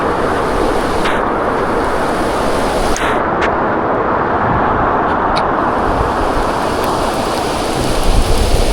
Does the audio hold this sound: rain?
yes